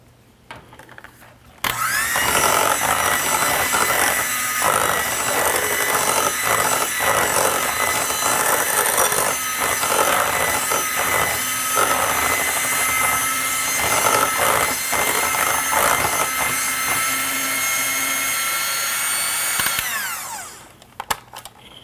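An electric mixer whirs steadily as it combines batter in a bowl, a loud continuous motor drone with faint scraping fluctuations that runs for about eighteen seconds before winding down and stopping.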